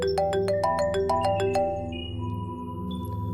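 A telephone rings with a repeated electronic tone pattern, a quick series of bright pulses followed by sustained tones, loud and clear with no talking.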